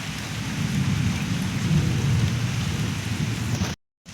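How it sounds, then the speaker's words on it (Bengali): Steady rain falls loudly with a low rumble of thunder underneath, a continuous wash of drops before a sudden cutoff near the end. "বৃষ্টি পড়ছে।"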